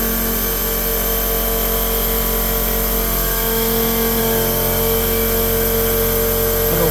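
A Sharp SV-2412 CNC machine milling at light spindle load: a loud, continuous, even mechanical whine and hum with steady tonal layers and no pauses.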